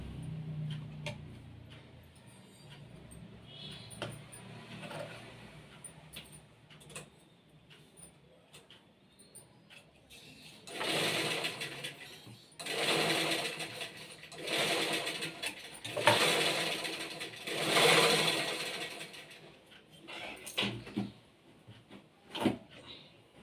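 A sewing machine stitches an embroidered blouse, running in loud, rapid whirring bursts through the middle stretch. Before and after, quieter ticks and small clicks of handling the fabric and machine are heard nearby.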